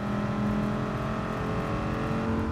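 A race car engine drones steadily at high revs in GT Sport, loud and continuous with no talking.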